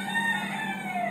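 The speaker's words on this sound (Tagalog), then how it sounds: "Maingay mo itong manok pa" A rooster crows once, a loud, drawn-out call close by, with no voices around it.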